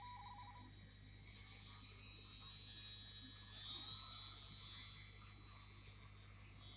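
A Proxxon Micromot 60/EF mini drill runs steadily at maximum speed, giving a smooth, continuous motor whine with faint hum beneath and slight swells in level.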